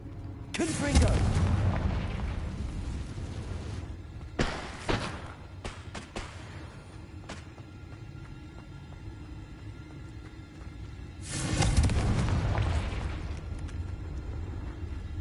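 Confringo blasting spell detonating in Hogwarts Legacy: several heavy, booming explosions spaced apart, each a loud broadband burst followed by rumbling decay, with quieter thumps between them.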